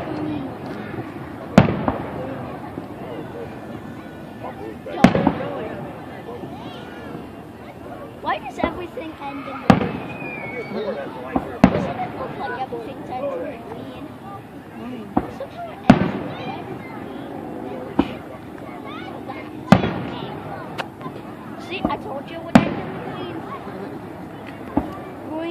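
Fourth of July fireworks over Chillicothe burst in a steady series of sharp cracks and booms every few seconds, each with a rumbling tail, under crowd chatter and voices nearby.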